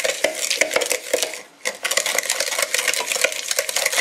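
Egg yolks and sugar whisked together in a bowl for a pineapple Christmas log, a dense, fast run of wire clicks and scrapes that keeps up steadily with one brief pause partway through.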